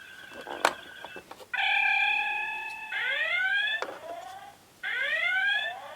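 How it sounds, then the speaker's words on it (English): A Playmobil Star Trek Enterprise 1701 toy alarm sounds when its dilithium crystal is disconnected: a burst of beeps, then a steady warbling electronic tone and rising sweeping wails, shrill and close, repeating in short bursts. "So that's the noise when you disconnect the crystal."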